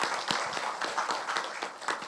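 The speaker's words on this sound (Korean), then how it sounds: "큰 박수 부탁드리겠습니다" Faint, thin applause from a small audience at an inauguration ceremony and history lecture, scattered claps continuing steadily for a couple of seconds at a distance.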